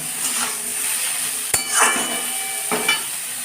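Whole spices tempering in hot oil for a light soybean curry, a soft steady sizzle with a few sharp clinks of a utensil against the pan.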